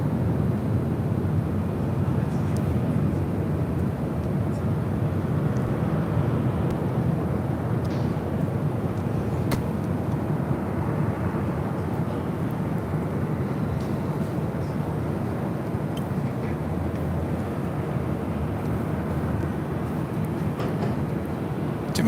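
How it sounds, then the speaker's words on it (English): Turkish Airlines Boeing 777-300ER taking off at LAX, a steady distant rumbling engine roar holding an even level throughout, with no clear voices. "This is Turkish Airlines Flight 180 taking off to Istanbul on a"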